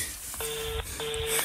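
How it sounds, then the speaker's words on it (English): Ringback tone on an outgoing phone call, with two short, evenly spaced ring pulses heard faintly through the handset. "It's ringing."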